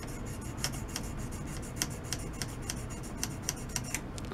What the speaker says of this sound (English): just rub it back and forth, going up and down that whole length of that cutting edge